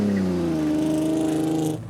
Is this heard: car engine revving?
yes